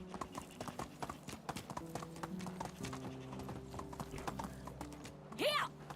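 Rhythmic clip-clop of horse hooves from the medieval village game Medieval Dynasty, a fast galloping beat with creaking tack, ending in a short whinny; a voice speaks briefly over it.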